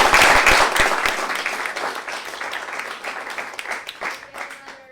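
Warm audience applause for a conservation speaker starts loud with sharp, close claps and gradually thins and fades out toward the end.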